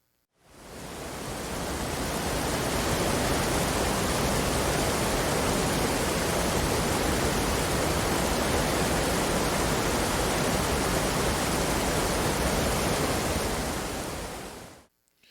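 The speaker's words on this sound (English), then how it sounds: "let's take a little 20 seconds or so, and let's listen to the waterfall" Waterfall pouring in a steady, dense rushing hiss that fades in, holds evenly loud and unbroken for about fourteen seconds, then cuts off, with no voices over it.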